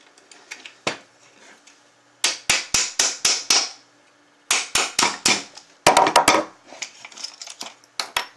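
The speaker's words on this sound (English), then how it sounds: "this is where we use our hammer and our nail or small screwdriver or some kind of punch" A hammer tapping a punch or screwdriver to drive a metal pin out of a broken Rock Band drum pedal hinge, loud close metallic strikes in rapid clusters separated by short pauses.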